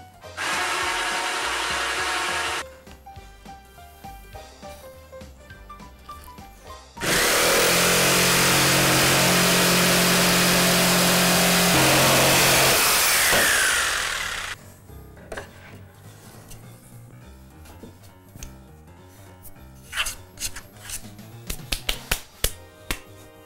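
Power drill boring a hole through laminate flooring for a heating pipe, two loud sustained whining bursts, the second longer, with tapping and handling noises between and after.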